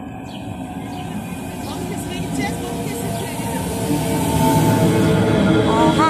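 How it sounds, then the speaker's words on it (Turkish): Bandırma passenger train pulling into Çiğli station in İzmir, a rumbling, rising mechanical roar with faint squeals that swells louder toward the end, while someone talks over it nearby. "şu an bandırma treni geldi"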